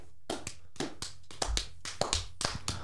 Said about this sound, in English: I can clap.